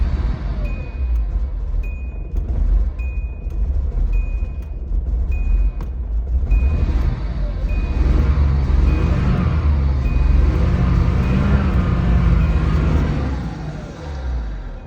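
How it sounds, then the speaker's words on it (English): A Datsun 280ZX with a faulty engine idles up close, a rough, loud low rumble running steadily throughout with uneven surges, a regular high beeping chiming over it. "here's a short video of the car running"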